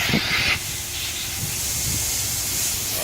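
An older Accu-Spray 3M HVLP turbine spray gun spraying clear coat onto headlights, a loud hissing burst at the start that cuts off, leaving a steady turbine whoosh behind.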